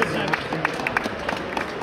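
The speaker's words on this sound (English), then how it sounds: "Let's have a round of applause for our competitors" Scattered clapping and crowd noise after a robot combat match ends, with sharp irregular claps rising over a steady hall din while a voice talks on top.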